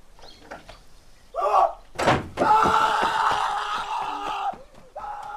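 A door opens slowly, with a low scraping creak that drags on for a couple of seconds after a heavy thud, set against tense, eerie ambience with a brief gasp-like sound before it.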